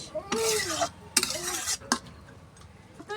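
A village-style chicken curry in a pot is stirred with a utensil, making a few bright scraping and clinking strokes separated by quieter gaps, over a faint low simmer.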